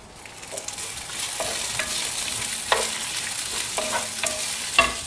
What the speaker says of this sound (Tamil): தீயாம ஒரு மாதிரி கலர் மாறுற வரைக்கும், அந்த பச்சை வாசனை போற வரைக்கும் வதக்கிக்கணும்